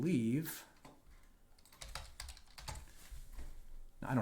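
Computer keyboard typing during a web security testing session, a quick run of close, crisp keystrokes in clustered bursts, with a brief voice at the start and end.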